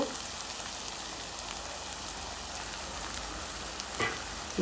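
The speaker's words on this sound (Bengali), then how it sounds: "মিডিয়াম আছে আমি মশলাগুলো একটু কষিয়ে নিচ্ছি" A spice paste of onion, ginger and garlic fries over medium heat in a pan, giving a steady, even sizzle and crackle throughout, fairly quiet, with a brief stirring clatter near the end.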